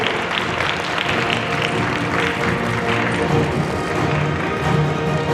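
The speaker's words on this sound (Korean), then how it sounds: "우리 박수 한번 보내주시기 바랍니다" A crowd applauds at a Korean regional government launch ceremony with loud, continuous clapping that stays dense and even throughout, while faint steady tones sit underneath.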